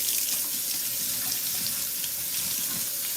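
A sofrito maker tray is washed under a running kitchen tap, with a steady rushing splash of water striking the tray in a sink, close and continuous, with no talk.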